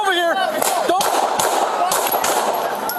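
Gunshots ring out in police shooting footage in Los Angeles, several sharp cracks spaced across a few seconds amid a noisy background, following a brief siren-like sweep at the start.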